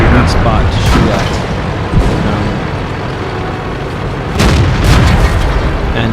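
Tank cannon fire in World of Tanks, heavy booming shots and impacts over a rumbling battlefield, with someone talking steadily over the action.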